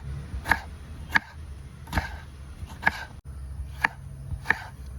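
A knife chops tomatoes on a cutting board while squid roast is being made: about six crisp, evenly spaced cuts close by, with a low kitchen hum between strokes and no talking.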